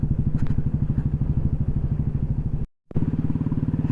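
Motorcycle ridden slowly off-road over big potholes on a broken road, rider standing on the pegs; a close, steady engine throb with rough, bumpy pulsing and one brief cutout near the end.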